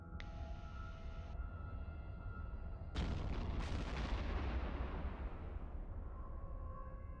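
Spaceship weapons opening fire in the space game EVE Online, with two heavy booming blasts a moment apart that roll off slowly over a steady low engine rumble and a brief electronic tone, with no talk.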